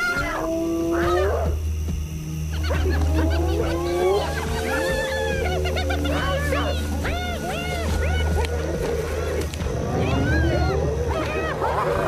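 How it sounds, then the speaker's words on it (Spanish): Spotted hyenas howl at night in Ngorongoro Crater, a run of rising, wavering whoops and cries that overlap one another above a steady low drone, loud and fairly close. "Más tarde, los aullidos de las hienas rompen el silencio."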